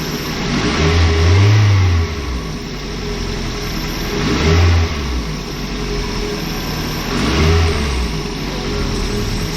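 A 2002 Toyota Corolla engine with a faulty number 1 cylinder revs three times in slow succession over a rough, uneven idle, close and loud without talk.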